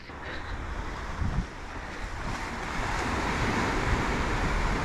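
Surf at Little Emu Beach on the Yorke Peninsula, Australia, on an overcast day: a steady broadband wash of waves with a low rumble, swelling slightly louder toward the end, with no voices.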